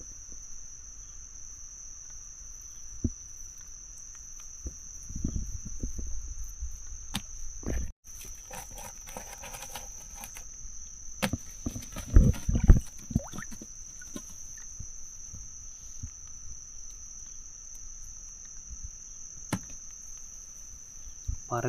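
Insects at night beside a river, producing a steady, high-pitched continuous chirp that runs throughout, with occasional nearby thumps and splashing-like bursts and faint rustling under it.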